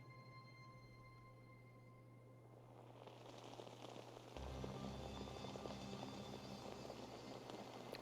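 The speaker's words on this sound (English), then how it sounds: "Was it scripted to be raining when I got here?" Steady rain in Assassin's Creed Valhalla swells in after a few seconds of quiet and becomes a dense, even hiss. It grows louder midway and sits over a low, sustained musical drone.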